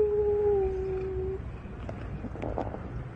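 A dog in Rome lets out a single sustained howl at the start, fairly clear and steady, fading after about a second into faint outdoor background noise with soft scattered sounds.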